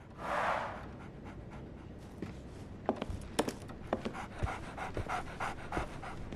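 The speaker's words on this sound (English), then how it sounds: "So, Barnes has a dog now." A dog pants in the video game Sherlock Holmes: The Awakened, rapid breathy huffs repeating close and clear after a brief soft rush, with no talking.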